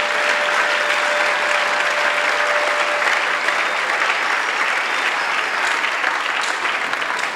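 A large crowd applauds steadily at an evangelism and deliverance crusade in Douala, a dense, loud, continuous wash of clapping with no breaks.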